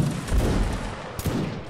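A musket volley fired on command in a line battle video game, one dense crackling burst of shots near and loud, fading out, with a second brief report toward the end.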